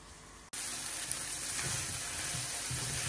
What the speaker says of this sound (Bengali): এখন এটা সুন্দরভাবে একটু কষাই নিই